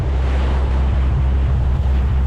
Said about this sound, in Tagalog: Kalmang kalma lang ang dagat.